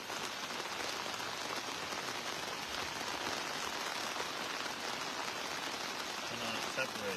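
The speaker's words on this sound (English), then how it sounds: "The rain coming down." Steady rain falling at an outdoor tribal council, a dense continuous hiss that holds evenly throughout, with faint speech-like sounds mixed under it.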